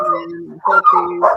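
A dog barks and yips in a short, close burst of a few quick vocal bursts, with people talking over it.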